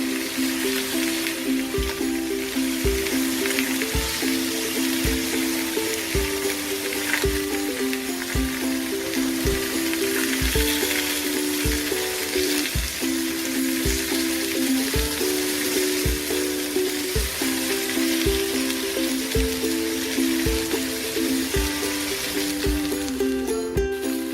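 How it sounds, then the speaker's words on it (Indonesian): Chicken pieces fry in a little oil, giving a steady, even sizzle that runs throughout at moderate level, with a regular faint tapping and a tonal hum underneath. "sekarang kita goreng ayamnya dulu dengan sedikit minyak sampai warnanya tuh agak"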